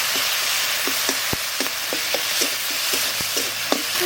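Ground cashew paste goes into a hot pan for a paneer gravy and fries with a steady sizzle, punctuated by sharp spattering pops and light scraping strokes, close and moderately loud.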